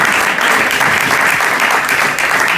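A church congregation applauds at a Sunday service, dense and loud clapping filling the room steadily throughout with no pauses.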